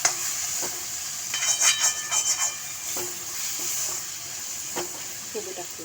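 Chana dal sautéing in a pan with turmeric and masala, a steady sizzle with scraping stir strokes and a few clinks of a spoon against the pan.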